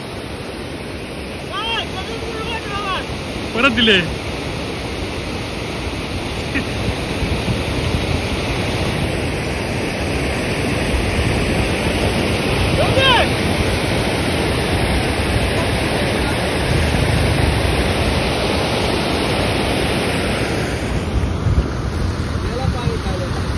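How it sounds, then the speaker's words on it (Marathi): Heavy unseasonal rain pours in the Konkan, a steady, loud, broadband wash that lasts throughout, while people talk briefly over it. "परत पाऊस झारतो आकड्या"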